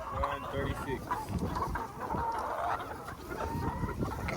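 Several chickens on a pasture farm cluck and chatter close by, a steady, busy flock sound with occasional louder calls over the top.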